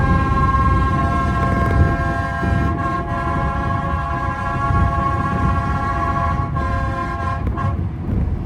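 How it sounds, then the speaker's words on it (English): A mountain train's horn sounds for departure from the top of the mountain, a loud, sustained, steady tone that holds for several seconds with brief dips near the end. "That's Engineer Phil announcing our departure from the top of the mountain"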